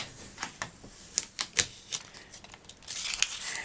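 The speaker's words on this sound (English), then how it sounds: "Now we're going to lift the tape" Tape peeled by hand off a stamped sandstone coaster, giving close, quiet bursts of crackly tearing and sticky clicks, irregular and spread over a few seconds.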